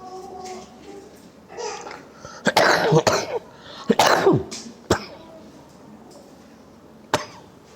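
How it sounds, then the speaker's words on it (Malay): A few sharp coughs close to the microphone, a cluster in the middle followed by a single cough near the end, with quiet surroundings. "sorry ya, batuk"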